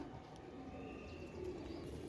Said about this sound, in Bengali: এই দেখেন কবুতরটা সিলভার গলা কবুতর